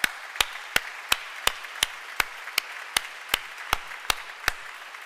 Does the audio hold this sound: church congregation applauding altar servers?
yes